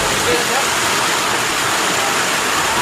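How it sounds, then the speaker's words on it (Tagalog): Strong tsunami water rushes after the Cebu 6.9 magnitude earthquake, a loud, dense, unbroken roar of torrential flow filling the whole clip like a waterfall, with no pauses. "Yung ragasan ng tubig, napakalakas."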